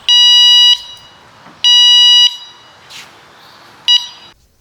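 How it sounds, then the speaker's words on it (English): Horn on a Nakto Skylark 2 e-bike: three loud electronic beeps, two long even tones and a short final blip, close and alone with no talk. "The horn is surprisingly just right, not too loud and not too soft."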